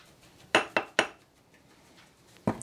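Metal measuring tablespoons clink against a bowl as bicarbonate of soda is scooped in for homemade herbal deodorant: three quick close taps, a pause, then one more clink, all fairly soft.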